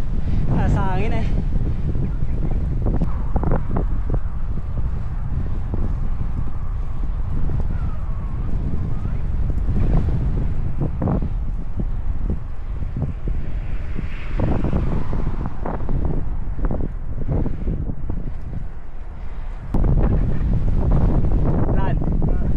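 Wind roars steadily across the microphone during a Friday bike ride from Al Shafa toward Hariti, a loud, continuous broadband rumble with short bumps and rattles over its full length.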